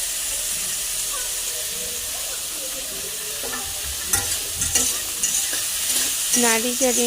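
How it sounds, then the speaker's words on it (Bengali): Bitter gourd fries in fish oil with salt and turmeric. A steady close sizzle and hiss carries throughout, and scraping stirs clatter against the pan toward the end. "নুন আর হলুদ ভালো করে দিয়ে নাড়িয়ে চাড়িয়ে"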